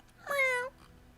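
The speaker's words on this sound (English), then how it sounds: "I wait for Amir's cat to come in" A single cat meow indoors, short and clear with a rising then falling pitch, standing alone against a quiet background.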